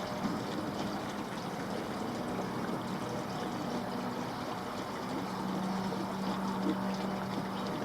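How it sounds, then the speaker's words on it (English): A steady liquid gurgle and splash of fuel pouring into a Honda CBR1100XX Blackbird motorbike tank, continuous and close, with no talking. "Don't you hate putting fuel in motorbikes like this?"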